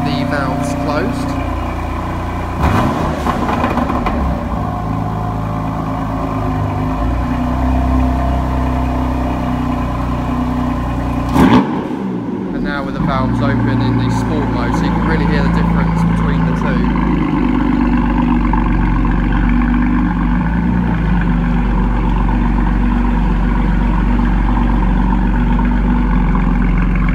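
A BMW M4 Competition coupe engine running in efficient mode with exhaust valves closed, a steady low idle drone throughout with a brief blip partway, close and fairly loud with no talking.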